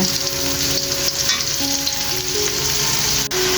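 Meat frying on high heat in a pan while being stirred, after onions and spices, produces a loud, continuous sizzle with a few scraping and clinking stirs, close up and with no voices.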